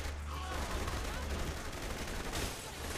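Dense gunfire rages in the Saints Row: The Third video game, a loud continuous barrage of overlapping shots with no talk.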